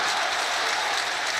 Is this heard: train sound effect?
no